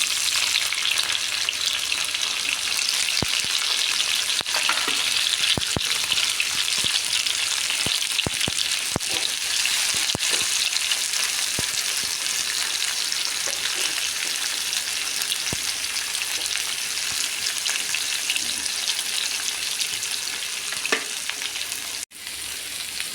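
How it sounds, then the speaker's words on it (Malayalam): Bitter gourd frying in hot coconut oil, a dense, steady sizzle that runs unbroken throughout, with scattered sharp clicks and taps from stirring. "ഇതിലേക്ക് എണ്ണ ചൂടാകുമ്പോൾ നമുക്ക് പാവയ്ക്ക ഇട്ട് കൊടുക്കാം."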